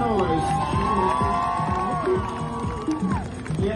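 A New York City crowd cheering and shouting loudly in a busy, sustained roar, with one long high whoop rising above it and scattered voices throughout.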